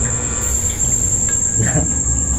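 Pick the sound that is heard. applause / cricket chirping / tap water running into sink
cricket chirping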